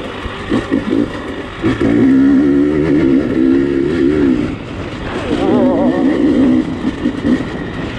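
Dirt bike engine on a practice track, revving up and down loudly with rising and falling pitch as the rider shifts down, close and continuous with wind noise.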